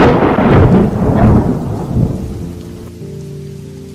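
Heavy rain pours steadily while thunder rumbles loudly, as a thunderstorm sound effect in a 2D animated Hindi story; the roar fades into a lower, calmer rain with a faint tonal hum near the end.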